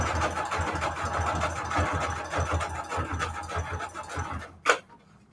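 A sewing machine runs a zigzag stitch to attach trim on a Valentine's Day junk journal, a steady fast mechanical whirr with rhythmic needle pulses, fairly close, then stopping with a short clunk near the end; no talk.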